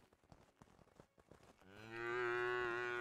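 A cow in the video game Craftopia gives a long, loud moo that swells and holds near the end, after a stretch of quiet footsteps and light in-game noises.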